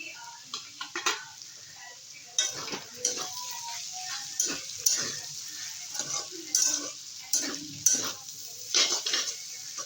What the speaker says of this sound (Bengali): এবারে দিয়ে দেবো ক্যাপসিকাম